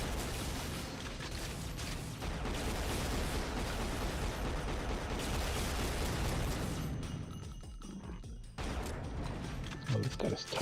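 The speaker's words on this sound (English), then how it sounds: "I thought the explosion would have taken him out at least." Explosions and gunfire mechanisms in the 1998 PC shooter Unreal Gold, a dense, loud barrage of bursts and clanking weapon noise that drops away near the end, followed by a few sharp pops.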